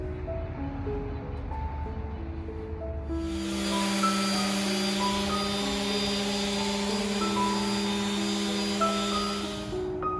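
Electric polisher working the corners and sides of an epoxy river table with fine grits up to 4,000, a loud steady whine with sustained tones starting about three seconds in over a quieter hum, running continuously to the end.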